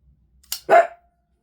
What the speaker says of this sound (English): What you barking at, dog?